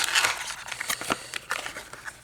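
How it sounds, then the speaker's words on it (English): A few crisp snips of scissors cutting through plastic nail polish packaging, with crinkling and rustling between the cuts, close up. "My handy dandy little scissors."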